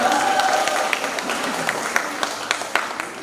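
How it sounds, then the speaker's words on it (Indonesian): An audience at a church Easter camp choir competition claps steadily for a finished choir, dense applause tapering into scattered individual claps, with a voice briefly heard over the start. "Sekali lagi kita berikan tepuk tangan untuk peserta nomor urut"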